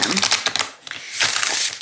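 Two oracle card decks being shuffled together by hand, one of thicker cardstock, making quick close riffling, clicking flutters in a few uneven bursts.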